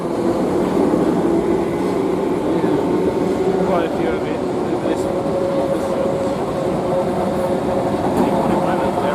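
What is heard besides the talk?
train approaching station platform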